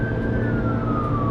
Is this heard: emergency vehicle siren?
yes